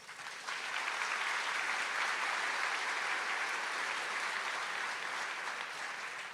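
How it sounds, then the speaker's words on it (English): Steady, dense applause from a graduation ceremony audience for a national anthem vocalist, rising quickly and holding full and even throughout without talk. "Please give them a round of applause."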